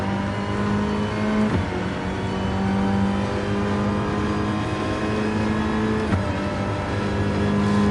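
A hybrid race car engine in GT Sport, revving steadily with a sustained droning whine and two brief dips in pitch as gears shift, loud and continuous throughout, with no talking.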